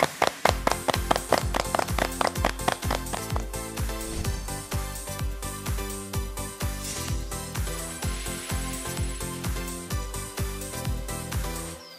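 An audience at a lecture claps in steady rows, sharp at first then settling into an even patter, with no talking.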